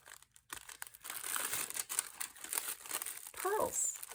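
Vellum envelope crinkling and rustling as it is handled up close, light crackly bursts mixed with faint talk.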